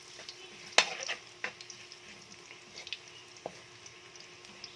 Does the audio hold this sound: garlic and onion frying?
yes